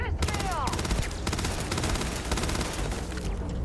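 Enemy turrets in Starfield, a video game, fire rapid, evenly spaced automatic bursts that sound close and loud, running almost without pause amid other game effects.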